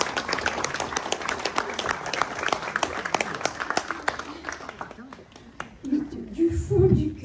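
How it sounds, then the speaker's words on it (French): An audience at a cultural fund's tenth-anniversary event claps in a dense, steady burst of applause for the performing artists, which thins out toward the end as low voices and room noise take over. "je pense qu'on peut les applaudir, ces artistes"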